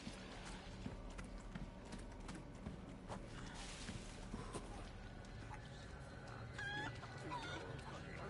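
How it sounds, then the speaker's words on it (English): A chicken clucks faintly in the Resident Evil 4 Remake video game, a few scattered clucks set among quiet in-game ambience and soft clopping footsteps. "That chicken just attacked me?"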